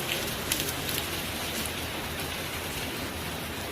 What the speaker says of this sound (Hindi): जो इतनी सारी बारिश हो रखी है ना